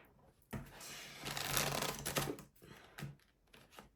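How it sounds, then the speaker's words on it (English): Tarot cards being shuffled in quick riffling bursts, a papery rustle and flutter that rises and falls over a few seconds, close by with no talking. "I'm just going to shuffle my cards"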